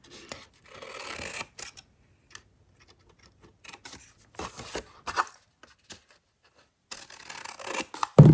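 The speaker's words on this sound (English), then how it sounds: "that you're just cutting with your scissors" Scissors snip through craft paper for a Halloween craft, coming in short rasping bursts with quiet gaps between, close and fairly soft.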